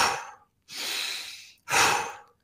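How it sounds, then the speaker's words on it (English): Intentional breaths pushed out through the mouth as part of a breathing exercise: three close, airy rushes of breath separated by short silences, the last one strongest. "intentional exhale through the mouth"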